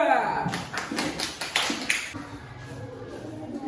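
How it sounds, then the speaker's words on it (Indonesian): A classroom breaks into scattered clapping for a student group, a string of uneven claps close by that thins out over a few seconds, with voices murmuring under it. "Kita berikan tepuk tangan untuk kelompok 2."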